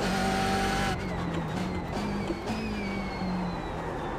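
A race car laps the Daytona circuit in the iRacing sim for the 24 Hours of Daytona, a loud engine whine that drops in pitch under braking, then climbs through repeated gear shifts, with faint tire noise.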